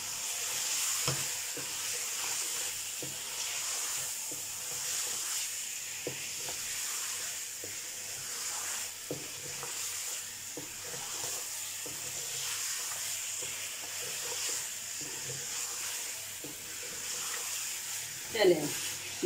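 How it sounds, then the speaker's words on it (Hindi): Mutton frying and being stirred in a karahi for Peshawari Shinwari karahi, salted and spiced with chili and turmeric, a steady near sizzle with scattered spatula scrapes and clinks throughout, brief louder clatter near the end. "गोश्त अच्छी तरह फ्राई हो गया।"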